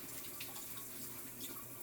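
Hot water runs from a kitchen tap, a steady close splashing rush with no voices over it.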